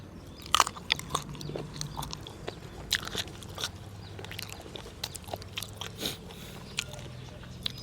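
Someone eating sticky rice with northern Thai fish larb, with close, crunchy bites and wet chewing in an irregular rhythm, including sharp crunches, soft mouth sounds, and no talking.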